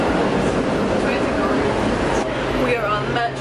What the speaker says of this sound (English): We are on the metro.